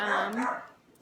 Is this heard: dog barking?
yes